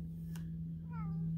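A house cat lets out one short, fairly quiet meow near the end, over a steady low electrical hum, with a soft rustle just before it.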